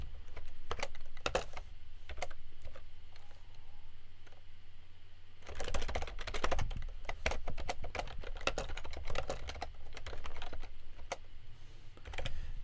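Fingers tapping JavaScript code on a computer keyboard, a steady patter of close, crisp keystrokes in bursts with a short pause midway and no talking.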